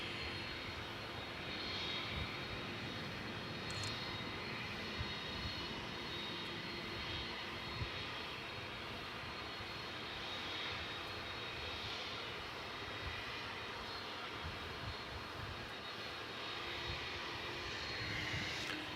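An American Airlines passenger jet at DFW Airport at night produces a steady, broad jet-engine roar that holds for the whole stretch, distant and fairly constant with slight swells.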